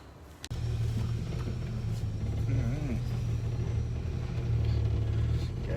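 A turbo or supercharged boosted car engine starts with a sharp click, then settles into a loud, steady idle rumble with slight revving variations throughout.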